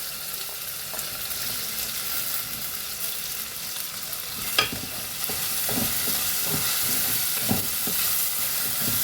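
Green chilies and raw mango frying in a pan for a Rayalaseema Andhra style tomato curry, giving a steady broadband sizzle with occasional stirring scrapes and one sharper clink midway, close and continuous with no talking.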